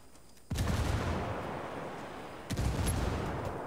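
Grenade explosions in the PvP video game Ghost: two heavy booming blasts, one about two seconds after the other, each followed by a loud, rumbling decay with no talking.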